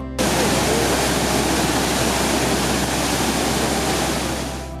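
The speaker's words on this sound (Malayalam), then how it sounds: "ഈ വെള്ളച്ചാട്ടം ഏറെ അടുത്തുനിന്ന് അപകടരഹിതമായി ആസ്വദിക്കാമെന്നതും മറ്റൊരു പ്രത്യേകത" A waterfall in full flow after heavy rain in the high ranges, heard close up as a loud, unbroken roar of rushing water that stays constant throughout.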